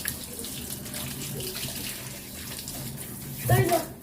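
Tap water runs steadily into a tub while a dog is shampooed, a continuous close splashing stream, with someone talking softly over it and a brief louder splash near the end.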